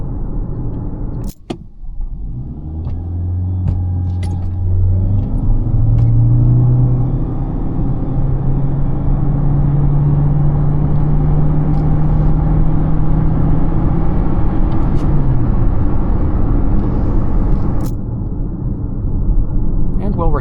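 A Toyota Corolla Hybrid accelerates hard to merge, heard from inside the cabin: its engine drones and rises smoothly in pitch, then eases off. A brief clunk comes near the start, and the steady road rumble continues underneath.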